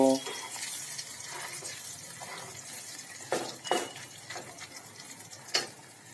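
Boiled potatoes dropped into hot oil for Kutchi dabeli filling give a continuous moist sizzle with occasional stirring scrapes and clanks, close and moderately loud throughout.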